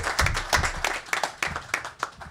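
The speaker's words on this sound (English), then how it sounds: "let's give him a round of applause" A crowd at a Belmont Stakes press conference applauds winning trainer Bob Baffert, brief bursts of irregular clapping that rise and fade.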